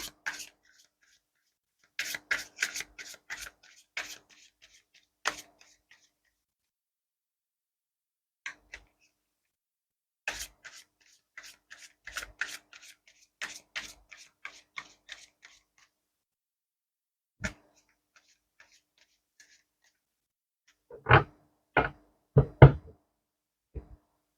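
Tarot cards are shuffled, rubbed and tapped on a surface in scattered bursts of soft flicks and snaps. Sharper, louder taps come near the end as the cards are laid out.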